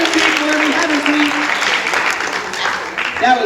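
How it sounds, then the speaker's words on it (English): Audience applause at a stage hypnosis show fills the whole stretch as a loud, dense wash of clapping, with a raised voice speaking over it near the start and again at the end. "Give me a applause, Joe."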